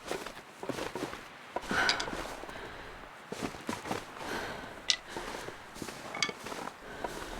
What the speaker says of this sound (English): Hear footsteps of something.